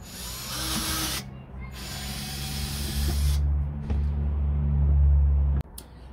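A drill bores a hole in plastic, starting with a hissing rush, then a steady motor whine that holds for a few seconds before cutting off abruptly.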